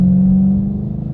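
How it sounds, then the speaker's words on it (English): A 2013 Dodge Charger R/T's 5.7L Hemi V8 rumbles steadily while accelerating, with a deep, throaty exhaust tone, close and loud, with no voices. "Exhaust sounds good."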